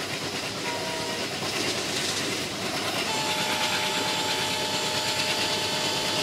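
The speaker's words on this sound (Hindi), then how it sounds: "और मैंने हॉर्न भी मारा है अभी" Steady rumble and rhythmic clatter of the moving 13132 Mitali Express train, with a sustained horn tone sounding partway through, close and loud.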